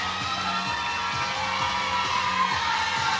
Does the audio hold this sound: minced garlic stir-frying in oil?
no